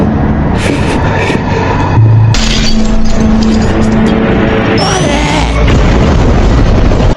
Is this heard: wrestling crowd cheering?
no